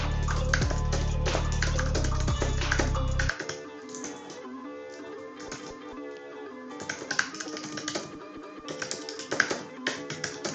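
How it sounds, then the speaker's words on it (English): Typing on a computer keyboard at a MacBook M2 Pro, a run of quick, light, irregular key taps close by, with a steady hum in the first few seconds and a brief bit of speech. "I'm literally typing in the background."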